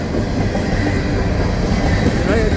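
An empty coal train with a DPU rolls along a siding, a loud, continuous close rumble with rail clatter and a brief wheel squeal near the end, steady throughout with no pauses.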